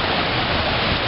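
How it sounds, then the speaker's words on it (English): The Ganaraska River in Port Hope, Ontario, a fishing spot, rushes past in a steady, loud broadband wash of flowing water. The sound holds even throughout with no talk over it. "Let's have a look at the Ganaraska River."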